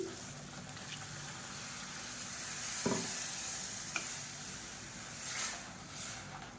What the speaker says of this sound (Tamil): இப்போ பாருங்கள், லைட்டாக அப்படியே கொதிக்க ஆரம்பிச்சிருச்சு